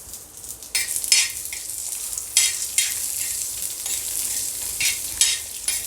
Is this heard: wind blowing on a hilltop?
no